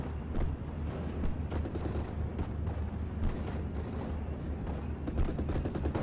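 Bombs explode in a WWII battle game amid dense, continuous gunfire and booming blasts, with no clear lulls.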